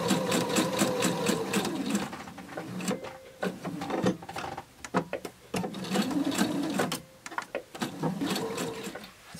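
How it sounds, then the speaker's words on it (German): A domestic sewing machine stitches a Cityhopper fabric bag in several close, rapid whirring bursts separated by short pauses, with small clicks and handling noises between runs. "Und dann wird genäht vom Knips 3 cm nach unten."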